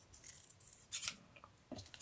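Random household scissors used as fabric scissors snip through fabric in two crisp, close cuts, with a quiet pause between them.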